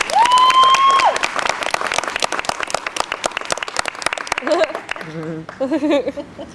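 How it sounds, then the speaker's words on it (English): An audience at a Warner Bros. Movie World studio backlot tour show applauds two pilots, steady clapping running under an announcer's voice and bursts of staged sound effects. "How about a big round of applause for our two pilots?"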